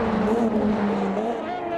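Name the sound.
Formula 1 race car passing Berger, Automobilista 2 video game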